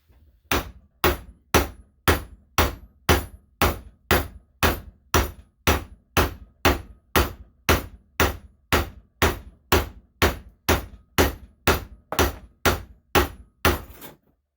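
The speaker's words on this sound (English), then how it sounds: "You're gonna want to evenly hit around the socket." A hammer striking a socket to drive a rear wheel bearing into a 2009-2013 Honda Rancher 420 ATV with independent rear suspension, about two dozen loud, evenly spaced metallic blows in a steady rhythm, close and alone.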